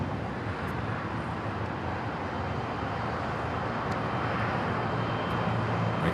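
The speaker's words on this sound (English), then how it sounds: "We got the Eva Air Cargo 777 freighter heading down taxiway Alpha" An EVA Air Cargo Boeing 777 freighter taxiing along a taxiway at LAX produces a constant low jet-engine rumble and hiss, steady and fairly close, with no talking.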